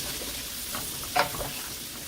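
A tablespoon of garlic sizzles in a hot pan, making a faint, even hiss with one brief sharper crackle near the middle.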